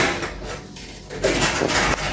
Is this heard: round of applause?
no